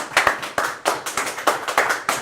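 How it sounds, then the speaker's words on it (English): A small crowd applauds a local independent pharmacy owner at a political event, with a brief burst of steady, fairly close hand claps at an even rhythm and no voices over it. "Big round of applause"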